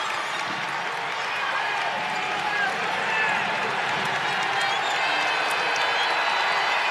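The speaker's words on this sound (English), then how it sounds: "The crowd is going wild." A packed basketball arena crowd roars and cheers during a college game, a dense, continuous wall of noise at full loudness throughout, with voices blended into the din.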